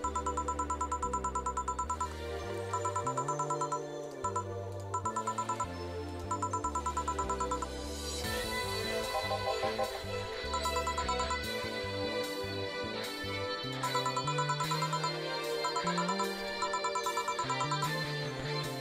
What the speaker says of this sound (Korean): 전화를 해봐야겠어.